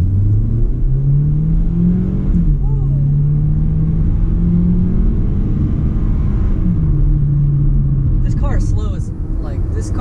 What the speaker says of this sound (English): Kia Soul launch, Kia Soul launch